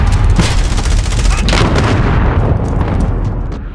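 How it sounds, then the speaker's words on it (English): Precision airstrike in a first-person shooter video game: loud, dense rumbling explosions with crackling bursts that roll continuously and then slowly fade, with a voice faintly mixed in. "Enemy precision airstrike"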